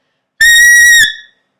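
A single loud, piercing clarinet note from bottom teeth left uncovered, shrill and harsh with a whistle-like edge, held under a second before cutting off with a short ring.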